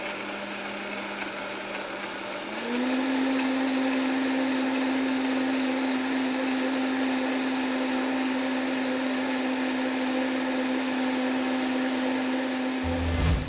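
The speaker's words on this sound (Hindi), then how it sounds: "ब्लेंडर में डाल करके सारे इस मसालों को पेस्ट बनाएंगे इसका हम।" A blender whirs steadily at high speed for several seconds, grinding a thick paste of whole spices for a tandoori marinade, its motor pitch jumping up once it starts and holding level.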